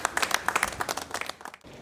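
Government officials, including the presidential chief of staff, clap to welcome masked company employees stepping off an airplane jet bridge, with a short burst of scattered, close clapping that fades out near the end.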